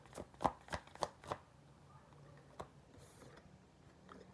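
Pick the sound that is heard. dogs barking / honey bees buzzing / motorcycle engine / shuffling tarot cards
shuffling tarot cards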